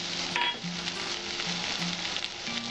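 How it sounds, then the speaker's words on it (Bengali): Chopped onion fries in a pan for Bengali potol alur kalia, a continuous hiss and crackle of sizzling oil, close and moderate in level, with faint tones in the background and no talking. "এবার পেঁয়াজ কুচিটা আমি 2-3 মিনিট ভেজে নেব।"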